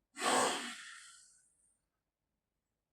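A single forceful, breathy lion's breath exhale with the tongue out, done as a yoga exercise for a cold, rushes out loudly and fades over about a second and a half, followed by quiet and the start of another breath.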